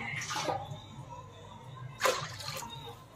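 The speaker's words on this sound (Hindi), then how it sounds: "और गरम पानी में ही चावल को डालना है।" Rice is poured into hot water for Hyderabadi-style chicken dum biryani, making two short, close splashing pours separated by a quiet pause over faint background hum.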